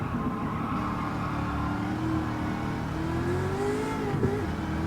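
A Chevrolet Camaro racing in Gran Turismo 7, its engine droning steadily and rising in pitch as it accelerates, loud and continuous with a brief tire scrub near the end.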